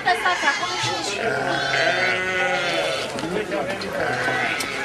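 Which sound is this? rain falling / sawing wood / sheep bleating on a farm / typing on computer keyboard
sheep bleating on a farm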